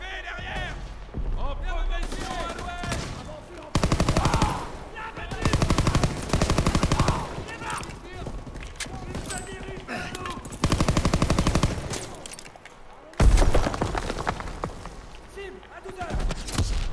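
Gunfire in Call of Duty WWII, a Normandy landing battle, with repeated machine-gun bursts and single shots in loud clusters separated by quieter gaps, mixed with distant booms and someone talking in between.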